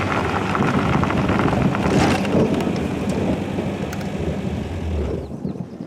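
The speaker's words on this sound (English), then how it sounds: "we got lightning and thunder boomers big time going on right now" Steady heavy rain with a deep, rolling rumble of thunder underneath, loud and continuous throughout.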